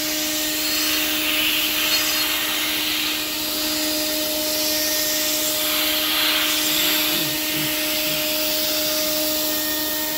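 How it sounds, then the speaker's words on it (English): A steady, loud hiss of compressed air blasting from the nozzle of a home-built CNC machine with an automatic tool changer, continuous and close for the whole stretch with a constant mechanical hum beneath it. "increase the pressure of the air blast."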